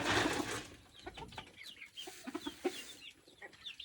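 Chickens cluck close by in a farmyard while being fed alongside ducks, giving a busy run of short, overlapping calls after a brief louder burst at the start.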